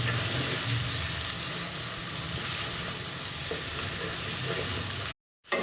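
Potatoes fry in hot oil until golden, cooked for an egg and potato masala gravy, giving a steady, moderately soft sizzle that runs unbroken and then cuts out briefly near the end.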